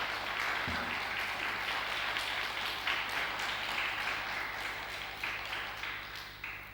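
A church congregation at a Korean church in Rome applauds steadily for several seconds, many hands clapping together in a dense wash that slowly fades toward the end.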